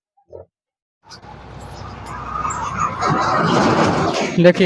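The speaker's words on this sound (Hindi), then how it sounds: "सामने से गाड़ी भी जा रही है।" Vehicles pass on the road in front, starting after a brief sound and a pause, then building into a louder rumble of engines and tyres close by. Talk is faint or absent.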